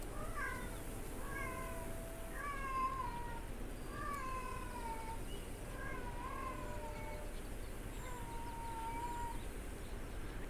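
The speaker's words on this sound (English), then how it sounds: "Can y'all hear the cat being in heat back there?" A cat in heat yowls in the video game This Land Is My Land, with about eight drawn-out, wavering cries repeating steadily at a distance over constant low background noise.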